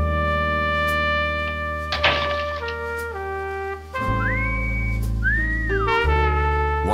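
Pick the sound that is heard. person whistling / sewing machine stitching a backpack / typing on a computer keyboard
person whistling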